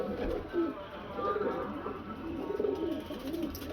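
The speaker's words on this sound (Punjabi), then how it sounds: "ਸਾਫ ਅੱਖਾਂ ਦੇ ਵਿੱਚ ਟੈਡੀ ਕਬੂਤਰ ਜਨਾਬ।" Teddy pigeon cooing in a breeder's loft, soft repeated low coos close by, with a few muffled sounds in the background.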